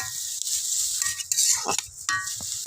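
A spoon stirs a curry of fish, pumpkin stems, potato and brinjal in a pan, with a few clinks and scrapes against the metal over a moderate sizzle, close by and with no talking.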